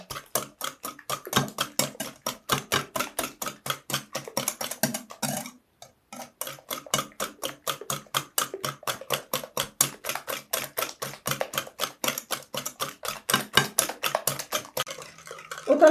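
Eggs being beaten with sugar in a bowl for a fluffy yeast cake: a fast, steady run of close, crisp whisk taps against the bowl, repeated rhythmically with one short pause midway, and no talking.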